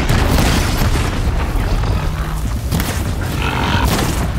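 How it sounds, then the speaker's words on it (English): A big explosion in the video game Horizon Zero Dawn, set off with fire arrows: a loud, sustained low rumbling boom that fills the whole clip without fading, with no talk over it. "Nice big explosion."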